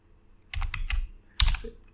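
Code being typed on a computer keyboard, heard as two short clusters of crisp key clicks, a rapid run of keystrokes followed by a second burst, close by with no voice over them.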